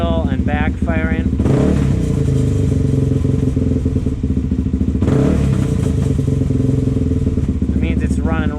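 A Suzuki DRZ400S engine runs lean, close and loud, with a lumpy hanging idle and a couple of revs, popping and backfiring throughout, while a person talks briefly at the start and end.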